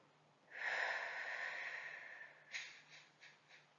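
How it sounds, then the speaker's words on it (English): During a seated parasympathetic breathing exercise, a slow, deep exhale drifts out softly for about two seconds, followed by a few short, quieter breaths. "doing that parasympathetic breathing"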